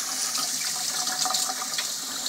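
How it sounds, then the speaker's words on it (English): Cold water runs steadily from a tap while hands are rinsed beneath it, a close, bright, hissing splash with small flickers of splatter, continuous throughout with no talking. "wash your hands in cold water without soap"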